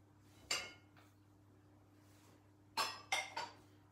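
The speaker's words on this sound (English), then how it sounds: "So you scoop out 1 teaspoon out of there." A metal teaspoon scooping baking powder from its container in a home kitchen while baking chocolate crinkle cookies, heard as one sharp clink, a faint tap, then three quick scraping clinks close by with no talking.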